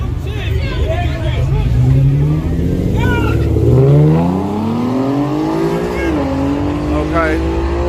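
A drag race car on street tires launches at a street race, its engine roaring loud and close as the revs climb and shift, with people talking underneath.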